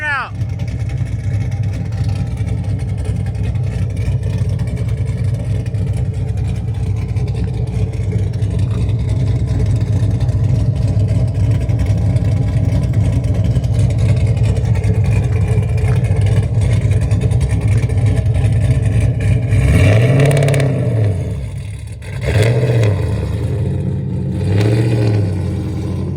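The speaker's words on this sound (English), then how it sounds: "Do a burnout." A cammed Camaro SS doing a burnout: a loud, steady engine roar holds throughout, then surges in several sharp revs near the end.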